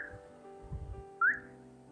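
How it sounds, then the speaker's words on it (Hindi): A person whistles one short rising note near the end of a quiet stretch during a live stream, brief and fairly loud against a low hum and soft room noise. "सीटी क्यों मार रही हो?"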